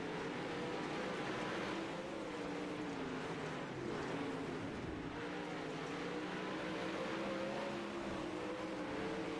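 Race car engines drone steadily at the Kokomo dirt track during a heat race, a continuous, fairly distant roar of several cars under throttle with no talk over it.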